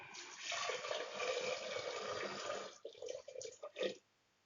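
Water pours steadily into a pressure cooker holding split chana dal lentils, a close, continuous splashing rush that breaks into a few short trickles before stopping, with no talking.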